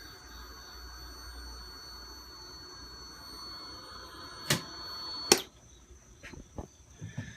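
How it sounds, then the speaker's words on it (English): A steady high-pitched whine from the fuel pump of a 2003 Kawasaki ZX6R that won't start, a thin continuous tone under a faint hum, then two sharp clicks and a few softer knocks near the end. "That whining noise is the fuel pump."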